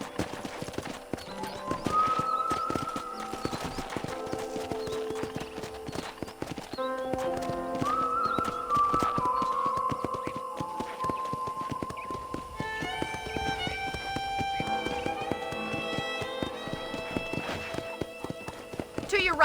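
Rhythmic clip-clop of horse hooves trotting along in Red Dead Redemption, steady and close, mixed with game music and occasional speech.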